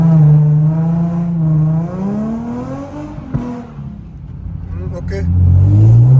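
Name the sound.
Nissan 350Z car accelerating on mountain road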